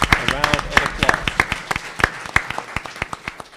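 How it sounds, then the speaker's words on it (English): Sharp, distinct hand claps from a small audience at a county school board meeting, irregular and close, loosening toward the end, with voices audible underneath. "Will you please give those principal list scholars a round of applause?"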